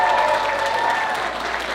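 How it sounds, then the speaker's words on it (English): A convention closing-ceremony audience gives the volunteers a warm round of applause, a dense, steady wash of many hands clapping close and loud throughout. "So I'd like to give a warm round of applause for all the volunteers who helped us out this year."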